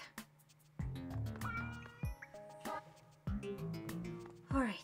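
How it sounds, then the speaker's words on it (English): A pet cat meows repeatedly at close range indoors, a string of several drawn-out, wavering cries with short pauses between them. "That's my cat."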